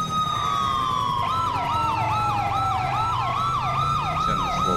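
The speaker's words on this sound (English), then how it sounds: "we're gonna run the dual siren" A police car in the LSPDFR video game runs a dual siren, one tone sliding in a long wail while a second yelps rapidly over it, loud and continuous over a low engine rumble.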